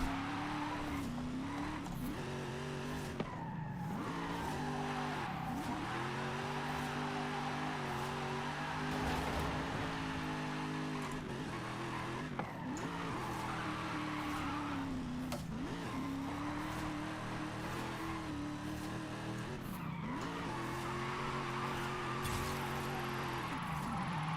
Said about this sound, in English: just because the drift zone's over doesn't mean I gotta stop drifting